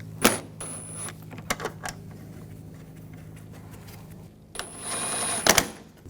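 A ratchet snugs down bolts on a 2004-2009 Audi A4 engine during a timing belt and water pump job: a short burst of rapid clicking near the start, a quiet stretch, then a longer clicking run near the end.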